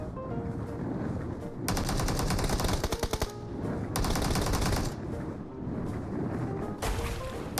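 Bursts of rapid automatic gunfire in PUBG Mobile, loud and dense, broken into several long rattling volleys over a constant background of game noise.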